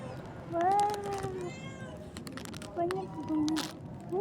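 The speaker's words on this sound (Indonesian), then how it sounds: "ada kucing yang datang" Cats meow several times at night, drawn-out rising and falling calls spread across the clip, fairly close, with a person's voice talking quietly in between.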